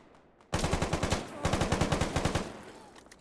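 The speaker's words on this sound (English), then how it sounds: "Running through Agroprom, I heard a lot of distant gunfire" Automatic gunfire in S.T.A.L.K.E.R. GAMMA at Agroprom, two sustained bursts of rapid rhythmic shots with a short gap between them, then a few sparse trailing shots.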